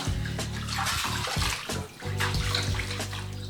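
Water runs steadily into a bathtub while a small Yorkshire terrier is bathed, a continuous close splashing rush with a brief dip midway and no speech.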